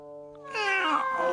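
A cartoon cat from a Hindi-dubbed Shin-chan episode gives one drawn-out, rising meow, close and clear, after a faint steady tone with no talking.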